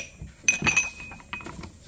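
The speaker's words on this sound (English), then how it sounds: "And a shot glass." A shot glass from an abandoned storage unit is handled, giving a few bright clinks and light knocks close by, with no talk.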